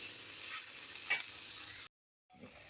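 Onions and tomatoes sautéing in a pan for egg gravy, a steady broadband sizzle with a brief stir clatter midway, then a short silence before the frying resumes more faintly.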